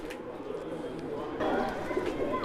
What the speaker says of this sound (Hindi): ये भैया के घर के मद्रासी कबूतर